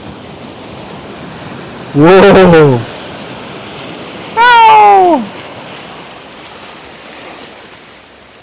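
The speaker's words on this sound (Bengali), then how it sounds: "কত বিশাল বিশাল ঢেউ আসছে দেখুন" Large ocean waves breaking at the southern edge of Bangladesh make a loud, steady roar of surf throughout, and a voice calls out twice over it.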